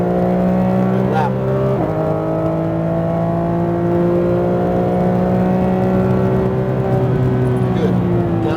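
Porsche GT3 RS engine on a race track, its sustained tone climbing and steady under acceleration, loud and close from inside the car, with a brief shift-like break near the start and an instructor's voice talking over it.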